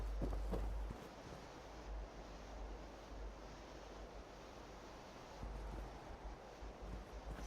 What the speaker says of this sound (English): Nothing but the sound of the wind and your own footsteps.